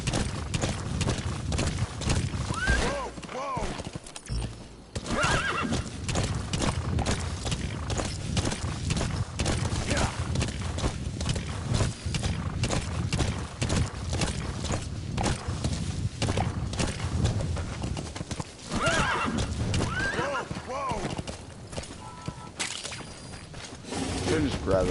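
Horse hooves clip-clopping in the video game Metal Gear Solid V: The Phantom Pain, a steady rhythmic gait that continues throughout under game sounds, with a brief break near the start.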